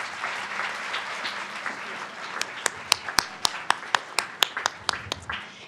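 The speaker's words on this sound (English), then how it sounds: "A big round of applause to each and every one of you." A round of applause at a town council meeting in Gilbert, starting as a soft crowd murmur and swelling into fairly close, sharp clapping with several distinct loud claps standing out near the end.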